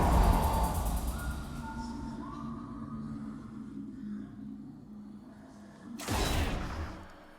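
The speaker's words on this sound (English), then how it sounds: "his Q when he goes into his invisibility form with his ambush" High Noon Twitch invisibility ambush ability sound from a video game: a dense whooshing, rumbling swell that fades into a low hum, then a sudden bright burst near the end.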